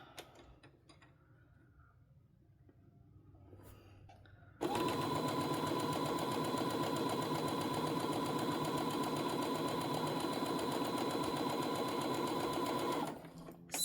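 A sewing machine stitches a quilt seam for flying geese blocks, running in one steady, continuous burst for about eight seconds after a quiet pause, then stopping abruptly.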